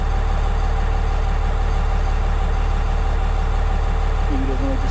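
Steady low engine rumble from an idling diesel vehicle, running continuously at close range beside an open horse-drawn sleigh outdoors, with people talking faintly over it.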